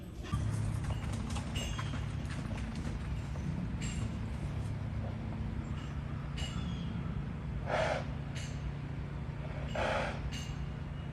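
Horses shift about with a few soft snorts and breathy blows over a low continuous rumble, some thuds of hooves mixed in.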